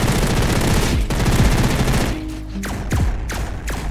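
Rapid MP7 gunfire in Roblox Energy Assault: a loud, continuous burst for about two seconds, then several shorter separate bursts with brief gaps between them.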